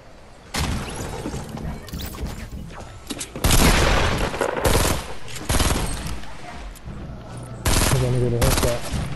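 Loud gunfire in Fortnite, with rapid machine-gun-like volleys breaking out in several separate bursts amid other game noise.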